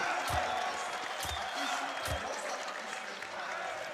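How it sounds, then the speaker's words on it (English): A large esports arena crowd at a Counter-Strike final roars and applauds continuously, a dense wash of cheering with a few thumping beats underneath. "Crowd is very hyped for Na'Vi."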